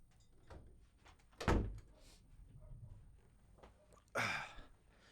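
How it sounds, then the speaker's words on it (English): A door swings shut with a solid thunk, followed a few seconds later by a second louder knock or latch sound; otherwise quiet room. "I'm closing this door"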